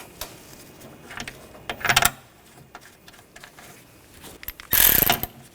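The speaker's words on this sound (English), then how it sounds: "get the bolts started." A ratchet spins bolts into a coolant reservoir on a 2013-2022 Buick Encore, quick clicking bursts of pawl ticks in two main runs with light metallic handling in between, close and otherwise quiet.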